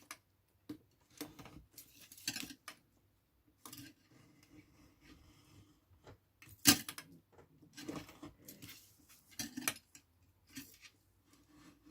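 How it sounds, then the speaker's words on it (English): A craft blade cuts card around a small template, giving a series of short, scratchy cutting strokes with pauses between them, close and fairly quiet, with no speech. "just push your blade up against the side of the card and cut around your little template"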